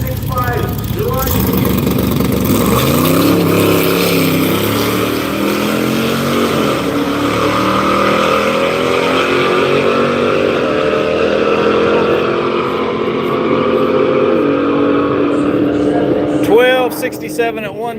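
A Hemi-powered old drag truck launches down the Orlando Speed World strip, tires spinning early, its engine a loud, close, sustained roar climbing steadily in pitch for about fifteen seconds before cutting off, with a voice talking over it.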